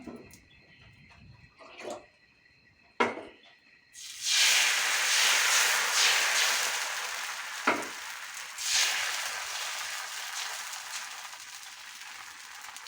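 Neer dosa batter hits an oiled hot pan after a few clinks and taps, breaking into a loud steady sizzle that hisses on and gradually softens, with one more clatter partway through.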